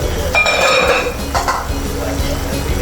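A utensil stirs squid adobo with bay leaves in a pan, clinking and scraping against the metal in a few close knocks, then settling into a softer bubbling simmer.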